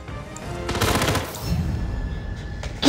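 Gunfire in the Hitman video game: a short, loud burst of rapid shots rattles through the first half, followed by lingering noisy combat sounds.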